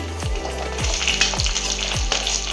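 Onions with curry leaves, ginger and garlic fry in a clay pot, a steady crackling sizzle with a few low scraping strokes repeating about every half second, close and without talk.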